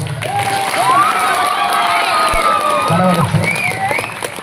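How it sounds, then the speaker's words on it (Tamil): A village koothu audience claps and cheers for a young performer on stage, loud crowd noise with shouting children and whoops, applause rolling under excited voices throughout. "கைத்தட்டில் கொடுங்க"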